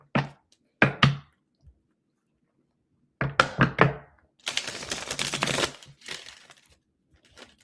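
A deck of tarot cards that keeps sticking is shuffled by hand: a few sharp taps and knocks on a table, then a longer, dense riffling burst before the cards settle. No one speaks.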